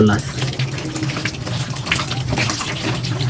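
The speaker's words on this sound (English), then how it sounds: "let's get to wash our tomatoes" Tap water runs steadily while tomatoes are washed in a home kitchen, a continuous close splashing flow with a person talking over it.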